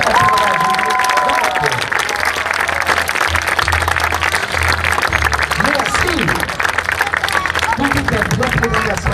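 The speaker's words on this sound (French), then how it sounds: "Un tonnerre d'applaudissements" Loud crowd applause and cheering from spectators at an outdoor stunt show in Angoulême, steady dense clapping throughout with some babble and faint voices mixed in.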